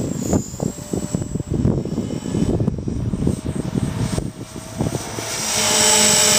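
A Mini Cylon RC model aircraft with a governor runs its engine at high RPM, a loud, steady droning whine that rises near the end.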